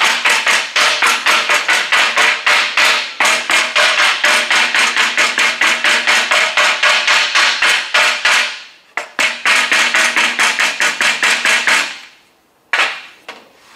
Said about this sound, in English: what I'm going to do with the hammer is I'm going to randomly just tap a design in it